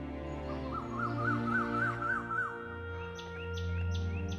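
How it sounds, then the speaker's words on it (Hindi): An Asian koel calls in a repeated rising series of clear whistled notes, fairly close and loud, over a steady background hum, followed by a few shorter high calls near the end. "ये कोयल की कूकू से मेरा दिमाग खराब है।"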